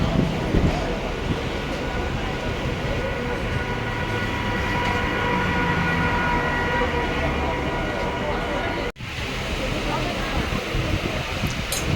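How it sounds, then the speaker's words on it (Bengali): A train pulls into a station while people speak over a continuous loud rumble of wheels and carriages, briefly cut off near the end. "ট্রেনটা চলে আসলো, এবার আমরা ট্রেনে উঠব সবাই।"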